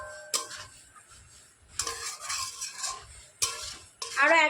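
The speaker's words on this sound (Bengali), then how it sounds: "আরো 1 থেকে 2 মিনিট হালকা হাতে নাড়াচাড়া করে আমি মিশ্রণটাকে খুব সুন্দর করে রান্না করে নিয়েছি" Sweet coconut and milk mixture gently stirred in a pan over medium-high heat, soft scraping strokes with a few sharp spoon knocks against the metal and a faint sizzle, close up, no voices.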